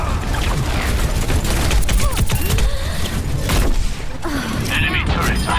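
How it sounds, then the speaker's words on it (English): An enemy turret firing in Overwatch: dense, continuous loud gunfire and mechanical clatter with booms throughout, with voices talking over the din. "Enemy turret ahead."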